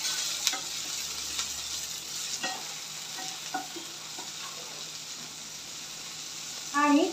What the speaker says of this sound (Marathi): आता त्याच्यामध्ये इथे मी ना 4 ते 5 पाकळ्या लसणाच्या ॲड करते आणि हे देखील व्यवस्थित परतून घ्यायचं आहे